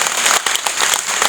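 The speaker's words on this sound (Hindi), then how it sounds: "इसके लिए बहुत तालियां जोरदार बनती हैं।" Dense, vigorous applause from an audience at a cricket-related event in Jammu and Kashmir, steady crowded clapping heard up close throughout the short burst.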